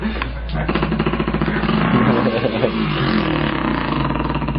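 A voice imitating a dirt bike engine, a continuous buzzing, sputtering drone held close and loud for several seconds with rattling pulses.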